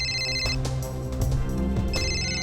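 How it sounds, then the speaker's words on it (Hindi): A phone ringtone repeats in bursts, with a short gap near the middle, over a music bed in a TV crime drama scene. It is loud and close, with no talk. "किसका फोन है?"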